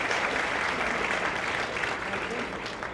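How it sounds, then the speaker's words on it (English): An audience at a hero gala claps in sustained, dense applause that stays loud and even throughout before easing slightly at the end. "If you can give him a big round of applause"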